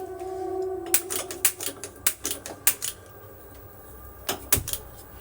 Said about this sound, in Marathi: मी गॅस ऑन करते